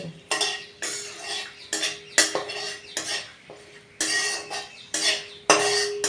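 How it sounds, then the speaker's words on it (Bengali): A spatula repeatedly scrapes and clanks against a metal wok while food is stirred, in loud irregular strokes about every half second, with a light sizzle underneath. "এবার এটাই না এটা হালকা নাড়ি চাড়িয়ে দিলাম"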